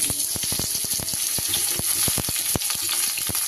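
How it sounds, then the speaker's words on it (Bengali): Raw green banana pieces frying in hot oil in a pan of potatoes for a vegetable dish, giving a steady close sizzle broken by sharp scraping clicks of stirring. "আলুটা একটু ভাজা হয়ে গেছে, এবার আমি দিয়ে দেবো কাঁচকলা"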